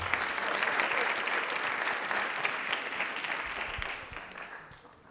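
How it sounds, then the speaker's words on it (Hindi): A studio audience on a Rajasthan television quiz show applauds loudly to welcome a young woman singer before her performance. The dense, steady clapping holds for several seconds and then tapers off. "तालियां एक बार जोरदार काजल के लिए"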